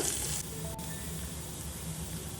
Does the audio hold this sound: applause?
no